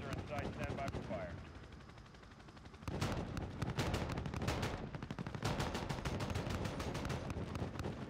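Gunfire in the Call of Duty: Modern Warfare campaign, with dense bursts of shots starting near three seconds and continuing in loud, rapid volleys over a steady din of battle and engine noise.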